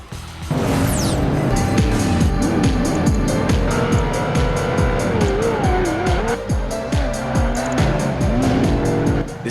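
Racing cars roar loudly in Project Gotham Racing 2 on the Xbox, with engines revving up and down through repeated gear changes and tires squealing, a constant close mix of engine noise and skids.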